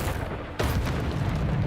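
A Depulso spell is cast in the video game Hogwarts Legacy: a single sudden booming blast hits partway through, then trails into a loud rumbling wash that carries on to the end.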